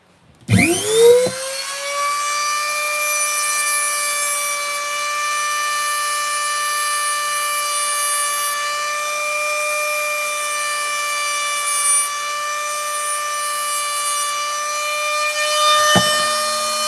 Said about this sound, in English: Sand it to make it smooth.